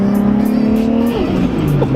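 A 600 hp Toyota Supra engine revs hard as its tires spin, making a loud, steady, close-up drone with a sustained engine tone that dips and shifts pitch partway through, along with tire squeal.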